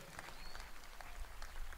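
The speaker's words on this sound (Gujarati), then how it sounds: "આપણે તાળીઓના નાદથી લાયન્સ ક્લબને વધાવી લઈએ." Audience applause at a Lions Club International Midwest Surat event during a World Yoga Day programme at a gurukul in Surat: a faint, steady patter of many hands clapping that continues without pause.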